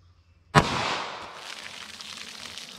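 A single sharp 9mm handgun shot from a short barrel, fired into a ballistic test box, bursts out loud and close, then leaves a lingering ringing decay.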